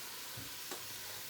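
Garlic and ginger fry gently over reduced heat in a steel pot, giving a soft, steady sizzle with a faint stir or scrape partway through.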